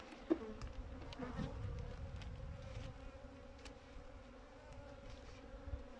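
Honeybees buzz steadily around a hive during winter feeding with sugar feed, a faint continuous drone with small clicks and knocks from handling the hive.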